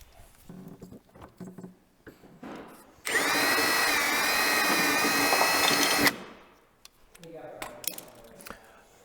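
A power drill bores a hole for a bumper rivet during a bash-plate bumper install, a steady high whine lasting about three seconds, with faint talk and handling noise before and after.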